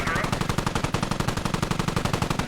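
Machine gun fire in a military video game battle rattles in a rapid, steady stream of loud, evenly spaced shots that run without a break.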